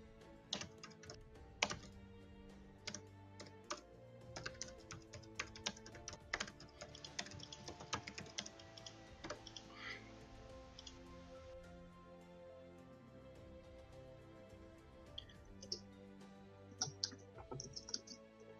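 Rapid typing on a computer keyboard during an online game tournament, with dense, irregular bursts of close, crisp key clicks and a few louder taps, heard alone without speech.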